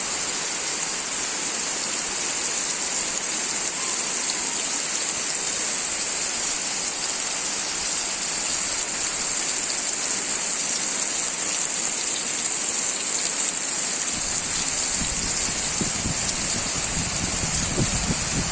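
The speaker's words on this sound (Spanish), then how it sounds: "Eso es la lluvia en la selva" Steady heavy jungle rainfall hisses continuously on a thatched house, a dense unbroken roar with no voices, some low rumbling thuds creeping in near the end.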